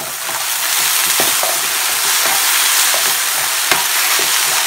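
Vegetables sizzling in oil in a frying pan for an omelet, a continuous bright crackle with scattered soft scrapes and taps as they are stirred, close and steady.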